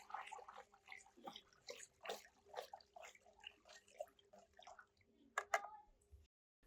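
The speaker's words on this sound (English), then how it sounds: "Stir well until the lime is completely dissolved in the water." Garden lime is stirred into a pot of water, giving faint, quiet sloshes and soft liquid swirls in an uneven rhythm, with a couple of sharper splashes near the end before it falls silent.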